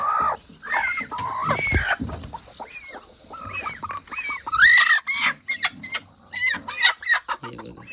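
Free-range desi (gavran) chickens and chicks clucking and chirping close by on a small poultry farm, a steady run of overlapping calls with no one talking.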